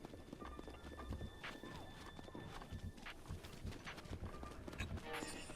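Horse hooves galloping in Breath of the Wild, a steady run of rhythmic thuds close up, with other game sounds layered beneath.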